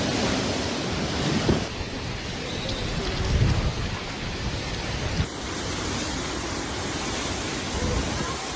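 Heavy torrential rain pours steadily during flooding in Zhengzhou, a dense continuous roar with low rumbles of thunder rolling in around the middle, loud and close throughout.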